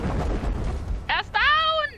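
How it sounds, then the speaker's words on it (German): Explosions in the video game Generation Zero: a loud, low, rumbling burst during the first second, followed by a player speaking. "Und sie sind explodiert."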